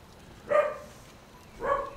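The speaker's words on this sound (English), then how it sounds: "As usual, we get the barking session." Dog in the game Blade and Soul gives two short barks about a second apart, clear and moderately close over a quiet background.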